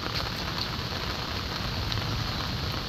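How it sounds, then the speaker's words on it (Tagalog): Heavy rain pours steadily outdoors, an even, dense hiss of drops on surfaces lasting the whole stretch without a break, fairly soft overall and with no one speaking. "Oh, super maulan."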